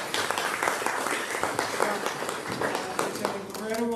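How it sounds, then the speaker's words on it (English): A crowd claps for a medical center CEO at an urgent care ribbon cutting, several seconds of dense applause with voices talking over it throughout. "with a big round of applause"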